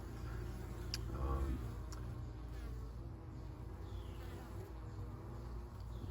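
Honeybees hum at a hive in a steady, dense drone, a continuous low buzzing with occasional faint clicks and no talking.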